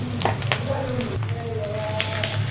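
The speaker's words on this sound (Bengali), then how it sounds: "মশলাটা ভেজে নিচ্ছে" Turmeric and coriander-cumin powder frying in a pan of oil for an ilish fish head and taro leaf dish, giving a steady crackling sizzle with scattered pops while someone talks over it.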